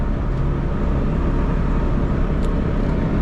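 A 1996 Fiat Cinquecento 700 with its 30 hp engine, heard from inside the cabin at speed: a steady, loud low rumble and road roar that continues without a break throughout.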